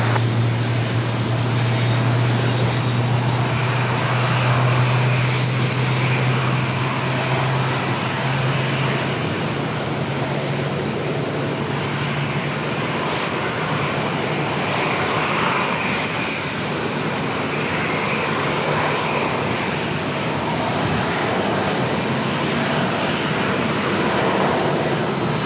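Airliner in Fallon the Falcon livery approaches at Raleigh-Durham International, its engines a loud, steady broadband roar that swells and holds, near and continuous, with no talk.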